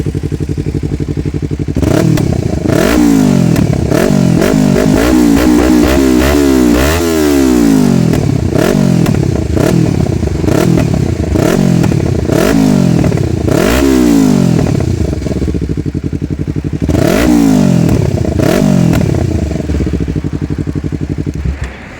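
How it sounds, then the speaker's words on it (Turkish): A 2023 Yamaha MT-25 motorcycle fitted with a header exhaust is revved repeatedly at close range, the loud engine rising and falling through a run of sharp blips over a steady idle. "Motor biraz kirli olsa da şöyle bir çatırdatalım."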